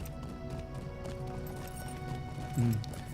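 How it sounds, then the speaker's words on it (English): Hooves clop steadily as a horse is ridden in the video game Lord of the Rings Online, a low, even patter over game ambience, with a brief louder thump near the end. "Let's just get on the horse."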